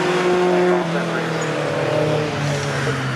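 Historic 1970s road sports and 1980s sports and GT race cars roar at Cadwell Park, engines droning loud and close with pitch slowly shifting as cars pass, under excited race commentary.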